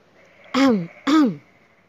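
A man in the corner clears his throat or coughs twice in quick succession, two short rough bursts close by with a brief pause between them and quiet around them.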